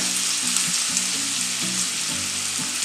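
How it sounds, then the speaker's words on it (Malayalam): Onion, ginger garlic paste and green chilli sauté in hot oil for a samosa filling, giving a steady close sizzle that holds evenly throughout with no talk. "ഇഞ്ചി വെളുത്തുള്ളി പേസ്റ്റ്, സവാള, പച്ചമുളക് ഇതെല്ലാം കൂടി സോട്ട് ചെയ്തെടുക്കണം."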